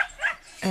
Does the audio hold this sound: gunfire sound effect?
no